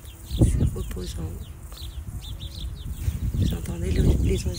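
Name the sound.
birds singing in the countryside of Cantal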